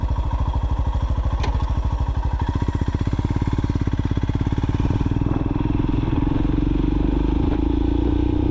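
A motorcycle rides along with its engine running steadily and loud close to the listener, pulsing firmly through the lower range with wind rush over it, and the engine note rises as the bike gets going.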